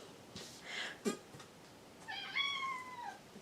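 A house cat gives a clear drawn-out meow near the end, preceded by faint rustling and a brief knock; fairly close and alone, with no talking.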